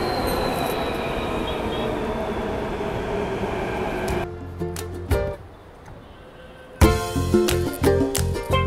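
A train in Delhi rumbles past with squealing wheels and metallic clatter, goes quieter midway, then loud rattling wheels return close by.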